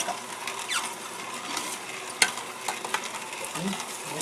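An electric juicer presses spinach, grass greens, apples and beetroot, giving a steady whirring, grinding rumble with crunchy crackles and one sharp snap as produce is pushed through, loud and continuous with no talk.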